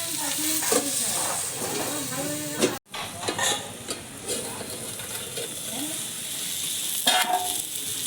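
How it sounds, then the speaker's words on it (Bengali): Bitter gourd and pumpkin frying in a pan, a steady close sizzle with scraping stir strokes and clinks, briefly cut by a sharp drop before the hiss resumes. "এবার আমি উচ্ছেটা ভেজে রাখি, উচ্ছেটা দিয়ে দেবো।"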